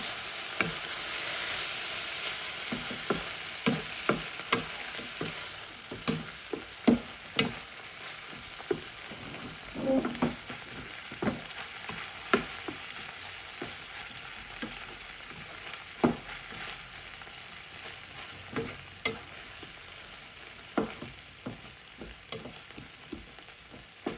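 Corned beef sizzling steadily in a pan while it is mixed, with repeated spatula scrapes and taps against the pan over a constant frying hiss.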